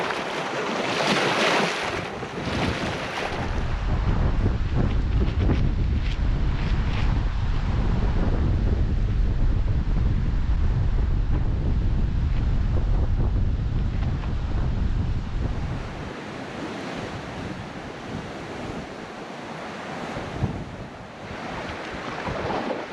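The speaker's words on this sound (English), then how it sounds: "It just kept up all night, very, very strong, and it's still blowing" Strong overnight wind blows steadily across a choppy lake in the Temagami pine country, with waves washing and slapping nearby and wind rumbling hard against the microphone before easing slightly near the end.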